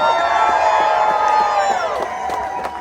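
About 800 people at a democracy rally outside a senator's office in Rhode Island cheer and whoop in a sustained, loud crowd roar with scattered shouts and clapping.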